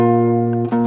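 Guitar sounding a fifth interval, two steady sustained notes ringing together, loud and close, with a quick re-pluck near the end of the short moment.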